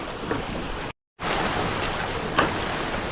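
A river rushes in a steady broadband wash on a monsoon trek at Ratangad near Bhandardara, with a momentary dropout early on and a faint splash later.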